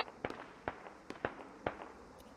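Mortar rounds bursting in the military shooter game Squad: a series of sharp, fairly faint cracks at irregular intervals, about six in quick succession, each short and snappy with no talk over them.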